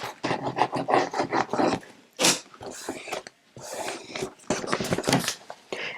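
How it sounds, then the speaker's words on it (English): Excess adhesive rubbed off the edges of a composition book in quick, scratchy bursts of friction, mostly sounding under a person talking close by. "if there's any excess adhesive, you can just rub that off."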